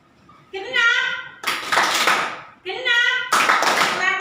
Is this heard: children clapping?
yes